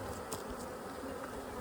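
Honeybees at a hive make a soft, continuous buzzing drone, faint and unbroken, with a few louder flybys close by.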